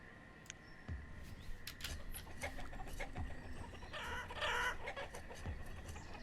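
Chickens cluck in a village farm pen in the medieval town-building game Banished, with scattered clucks and a few sharper calls rising over a soft ambient bed of farm and village sound.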